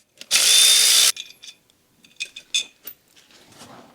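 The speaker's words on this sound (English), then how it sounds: "I'm gonna remove the little 8mm bolts for the cylinder head." A power tool whirs in one loud burst for about a second while removing 8mm cylinder head bolts on a Polaris Sportsman 500, followed by quieter metallic clinks and handling clatter close by.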